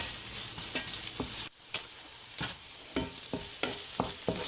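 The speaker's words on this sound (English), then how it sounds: "we're gonna stir it up until the onion" Onion fries in a pan with a constant bright sizzle, while a utensil stirs it in a series of scraping strokes and taps, close and fairly loud, with a brief dip in the sizzle partway through.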